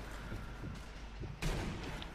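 Gunfire in the co-op zombie shooter Zombie Army Trilogy, a sudden loud shot or burst standing out against steady game background noise.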